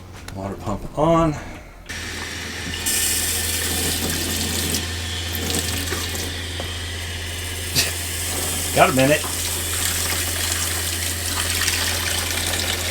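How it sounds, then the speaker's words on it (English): An RV water pump runs steadily, pushing water through the piping with a constant hiss and hum that lasts the whole stretch, beginning after a short burst of nearby talk, with a brief voice again partway through. "Water pump on."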